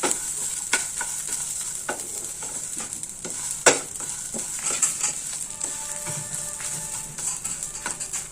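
Garlic cloves and curry leaves fry in a pan for curry leaf thuvaiyal, giving a continuous close sizzle broken by scattered taps and scrapes of a spoon against the pan.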